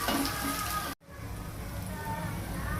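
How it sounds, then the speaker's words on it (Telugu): Sliced onions sizzle and crackle steadily in a hot oil pan, a dense frying hiss that briefly cuts out near the one-second mark, then resumes at an even level. "ఇప్పుడు ఉల్లిపాయలు వేసుకుందాము. వేగాలి ఇది."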